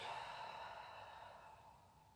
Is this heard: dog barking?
no